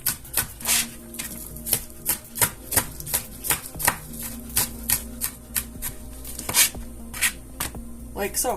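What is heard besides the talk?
cutting up hot boiled potatoes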